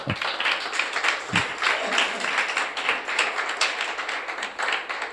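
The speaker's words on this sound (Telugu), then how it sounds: "చప్పట్లు కొట్టండి ఒకసారి అందరూ." A church congregation claps along during a sermon, a steady wash of many hands clapping at moderate loudness that fills the whole stretch.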